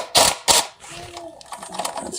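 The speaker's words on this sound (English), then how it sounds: "So let's grab the impact wrench." Impact wrench tightening a Two Brothers SR1 exhaust bolt on a Yamaha XSR700 motorcycle, two sharp close bursts of rattling hammering followed by quieter mechanical clicks and handling noises.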